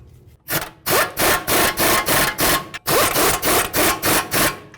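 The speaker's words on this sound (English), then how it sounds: "Let's get these nuts on here." Nuts are run onto the front ball joint bolts of a 2008-16 Chrysler Town & Country during a ball joint replacement. It makes loud, close, rhythmic rasping strokes, about nine in quick steady succession after a brief pause.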